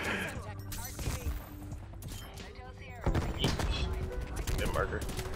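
Rapid AUG rifle fire in the Cold War-era shooter Black Ops Cold War, with loud bursts of gunshots across the whole stretch, a dense sustained volley in the second half, and game sounds mixed in.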